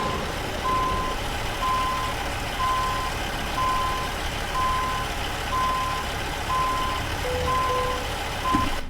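Reversing beeps from a truck backing up in American Truck Simulator, a steady evenly spaced series of about nine electronic tones over a low engine drone, no talk.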